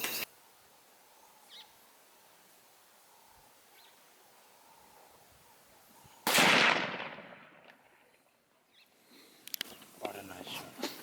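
A single sharp rifle crack from a .375 hunting rifle fired at an African hog outdoors, loud and close, with a decaying rumble afterward and faint background sounds around it.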